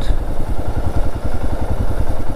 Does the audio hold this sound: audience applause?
no